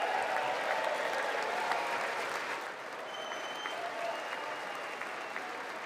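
Sustained audience applause in a large chamber during a State of the Union address, a dense crowd clapping that stays steady, then eases slightly, with no talking.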